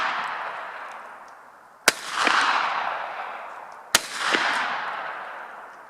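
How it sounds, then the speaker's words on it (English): Two sharp, loud gunshots, about two seconds apart, are fired into cans of bully beef outdoors, each crack followed by a long rolling echo that slowly fades. "I don't feel too bad about putting bullets through this one"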